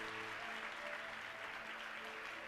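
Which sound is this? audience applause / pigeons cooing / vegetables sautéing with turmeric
audience applause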